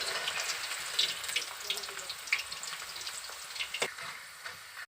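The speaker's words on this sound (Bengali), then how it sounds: "এবার ছেড়ে দেবো সবগুলো এরকমভাবে আমি ভাজতে থাকবো" Raw banana pieces frying in oil on low heat, a soft steady sizzle with occasional crackles and light pops, close by and fairly quiet, a brief clunk near the end.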